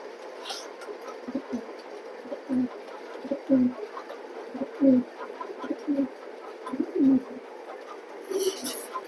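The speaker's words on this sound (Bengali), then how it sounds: "আমি ছেড়ে দেখাচ্ছি কবুতরটা" A racing pigeon coos in a series of soft, low, rounded calls repeating at irregular intervals, close by, with faint background rustle and a brief flutter at the start and end.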